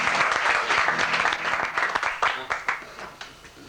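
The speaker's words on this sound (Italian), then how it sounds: "Un bel applauso a noi." An audience breaks into steady, dense applause that thins into scattered individual claps toward the end, close and fairly loud, with voices mixed in.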